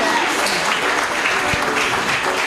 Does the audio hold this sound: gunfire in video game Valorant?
no